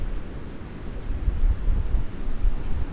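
Huge storm-driven ocean waves roar against the seawall at Ocean City, Maryland, a continuous low surging rumble mixed with heavy wind buffeting the microphone.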